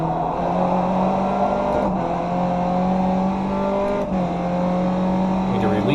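A race car engine in iRacing at Circuit Park Zandvoort drones at high revs, its pitch stepping up through gear changes with brief lifts between, steady and prominent with a voice talking over it.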